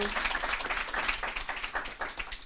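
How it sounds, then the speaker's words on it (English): A small group claps steadily for a couple of seconds, a dense patter of applause from a modest crowd. "Judges, can I get a round of applause for Kathleen"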